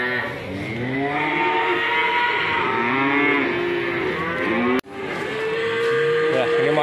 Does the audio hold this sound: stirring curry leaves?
no